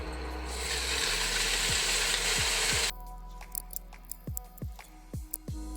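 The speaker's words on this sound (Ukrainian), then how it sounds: "розігріваємо сковорідку додаємо олію і висипаємо курку" Chicken hisses and sizzles loudly in hot oil in a frying pan, then the sizzle cuts away, leaving scattered clicks and taps of a utensil against the pan.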